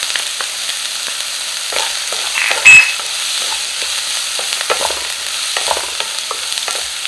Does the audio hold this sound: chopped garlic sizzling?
yes